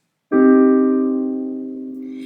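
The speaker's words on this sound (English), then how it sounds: "a minor triad, which might sound like this." One minor triad chord struck on a piano after a brief silence, ringing clearly and decaying gradually, alone and close.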